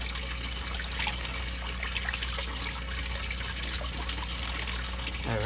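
Water pours in a steady trickle into a container holding black giant and red tilapia fingerlings, running continuously and close by with no talking.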